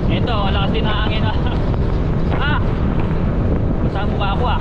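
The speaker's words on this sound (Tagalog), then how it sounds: "Eto, lakas din na hangin" Strong wind buffets the microphone during a motorbike ride, with constant heavy roaring rumble throughout and a voice talking underneath.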